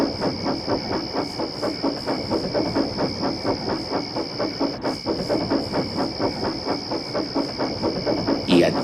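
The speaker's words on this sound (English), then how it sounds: "As Rheneas puffed slowly along, he peered through the mist, keeping a watchful eye for Skarloey." A steam locomotive chuffs along in a steady, rhythmic puffing beat with a constant hiss of steam, close and fairly loud.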